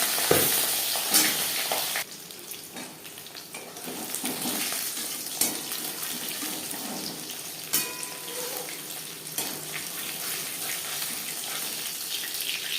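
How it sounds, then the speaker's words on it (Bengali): Pieces of pabda fish fry in hot oil, giving a steady close-up sizzle with a few sharp spattering pops and a brief lull near the two-second mark; no voices are heard. "পাবদা মাছ হাতে সাবধানে ভাজতে হবে।"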